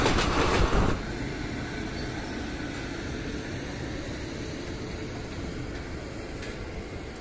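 Superfast train running near Chennai, heard from on board as a continuous loud rumble and rushing wheel noise with faint rhythmic clatter.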